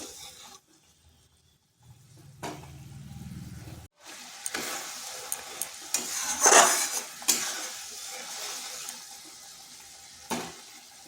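Masala for a potato and pointed gourd curry is sautéed in a pan, with intermittent stirring scrapes, clinks of a utensil and a low sizzle, close and with no voices.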